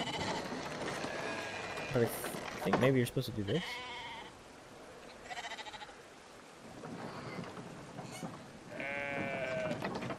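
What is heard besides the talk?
sheep bleating in video game Brothers: A Tale of Two Sons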